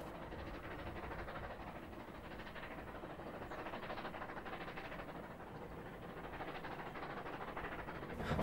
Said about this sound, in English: the Rail Heritage Trust's F-163 hauled a train from Palmerston North to Taihape